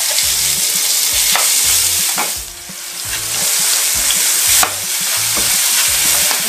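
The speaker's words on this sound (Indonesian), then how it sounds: "Sekarang kita mau tumis bumbu untuk ikan kuahnya." Spice paste for Indonesian fish soup sautéing in a hot pan, a steady loud sizzle with repeated scraping stirs and clinks running throughout, no voices.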